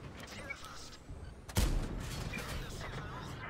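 A single sharp cannon shot from a Char Futur 4 autoloading tank in World of Tanks booms out midway, followed by a lingering rumbling tail, with a voice talking throughout.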